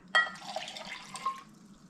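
One cup of water pours onto sugar in a bowl for homemade hummingbird nectar, a close, bright splash that starts abruptly, runs for over a second and trails off into quiet, with no voices.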